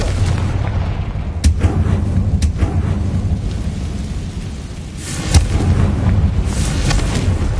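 Booming, rumbling blasts from the Confringo explosion spell in Hogwarts Legacy, heavy low thunder-like detonations with sharp cracks around the second and fifth seconds, loud and continuous.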